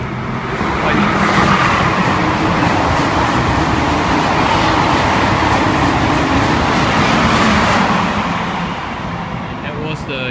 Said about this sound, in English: that was the Eurostar train passing through at 140 miles an hour